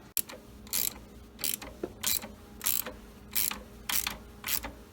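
A 15 millimeter ratcheting wrench loosens the alternator nuts on a 2005 Ford Mustang, giving repeated short bursts of metallic clicking in a steady rhythm, close and fairly quiet.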